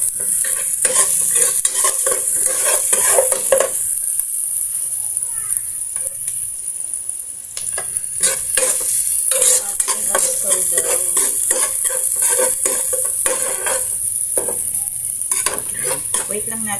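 Garlic sizzles steadily in a hot pan while a utensil stirs and scrapes in frequent bursts, close and continuous; someone speaks now and then over the cooking.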